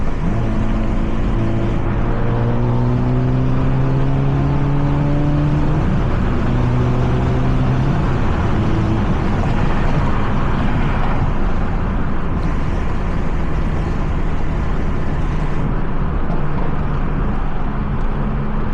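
A car engine revs in a gentle partial-throttle pull, its tone climbing in rising sweeps then falling back, loud and close over continuous road and wind roar, with no talk.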